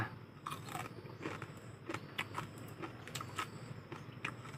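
Someone bites and chews crunchy fried field rat close up, giving repeated crisp crunches and crackles in an uneven rhythm over a quiet background.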